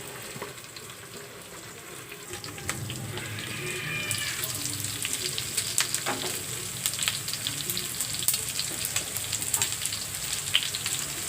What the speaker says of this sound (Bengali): চিকেন ফ্রাই হয়ে আসছে